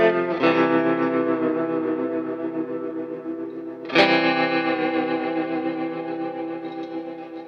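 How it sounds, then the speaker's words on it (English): Sustained Fender Stratocaster electric guitar tones through a whammy pedal, drenched in pitch-shifting effects and distortion, with a sharp attack near the start and another strong re-strike midway, ringing out with reverb. "Go back to that bass on the whammy pedal. Oh, you can really hear the warm tones out of that Strat."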